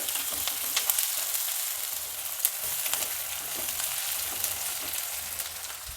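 Dry red chilies frying in hot oil for a no-rice eggplant vangibath, a close, continuous crackling sizzle with scattered pops and light stirring, no voices.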